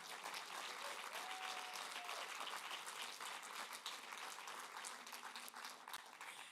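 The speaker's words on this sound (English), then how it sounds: "Please clap for Michael Whalen." A room full of people claps at a book release event for the book's editor, a dense continuous applause heard at a distance and fairly faint, holding steady throughout.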